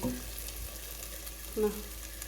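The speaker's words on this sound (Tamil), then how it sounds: "எண்ணெய் ஊற்றி மூடி போட்டு மூடி லைட்டாக ஃப்ரை ஆக விடுங்க" Potato pieces fry in oil under a covered pan, giving a soft, steady hiss that stays faint throughout, with a slightly louder bump near the end.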